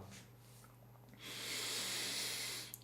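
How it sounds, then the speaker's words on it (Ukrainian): A long, deep exhalation during a bedtime breathing exercise: a quiet, breathy rush of air follows a softer start and holds steady for over a second before tapering off, close and alone with no talking. "Робимо глибокий видих."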